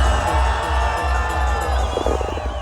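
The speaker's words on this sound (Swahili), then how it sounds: "Nataka nisikie shangwe, vigelegele kwa Mwenyezi Mungu" A large crowd cheers and shouts together at a Modern Furniture gathering, a dense, steady roar of voices that stays loud throughout with some higher whoops breaking through near the end.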